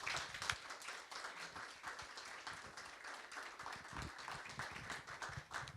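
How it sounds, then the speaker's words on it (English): Applause after a library talk, a smaller audience clapping with individual claps distinctly audible, fairly quiet and even throughout. "Can we please have a round of applause?"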